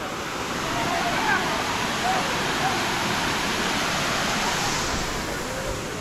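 Ruposhi waterfall at Sitakunda roars steadily and loudly as a dense, unbroken wash of falling water throughout, with no pauses or variation.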